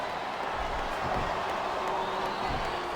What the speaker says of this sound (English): Now the fans start to cheer for him.